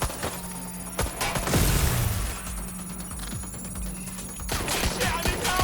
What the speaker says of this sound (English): They're shooting at us! I'm taking fire!